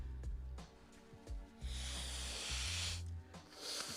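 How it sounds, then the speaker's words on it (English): Someone blows their nose close to the microphone in a long, hissing burst lasting a couple of seconds, with faint rustling around it, a fainter second blow and background music underneath. "Blow my nose."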